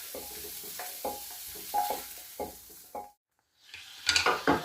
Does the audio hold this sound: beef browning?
yes